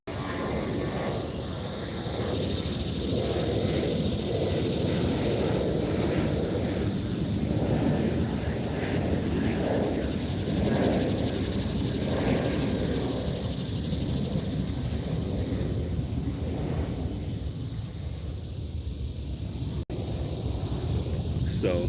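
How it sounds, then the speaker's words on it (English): An airplane passes overhead near an airport, a faint broad rumble that swells and fades behind a vegetable garden, with wind buffeting the microphone. "Here's another airplane."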